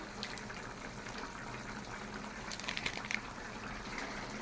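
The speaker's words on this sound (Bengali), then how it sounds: "ঝোলটা দেখছেন ভালোভাবে ফুটে গেছে" Thick dhokar dalna curry gravy with ghee and garam masala bubbles and gurgles in a pot at a steady low simmer, with a few brief clinks partway through.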